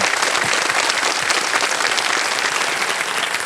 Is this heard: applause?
yes